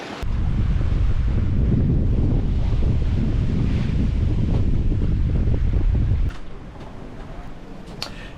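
Strong wind of 20 to 25 knots and breaking waves on a sailboat mid-Atlantic roar loudly with heavy microphone buffeting, easing abruptly near the end to a lighter rush of wind and water.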